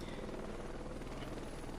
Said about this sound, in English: the helicopters do actually sound quite nice